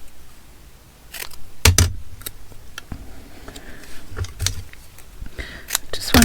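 Scissors cut paper scraps for a junk journal, making a string of close, sharp snips and crisp rustles separated by short quiet gaps.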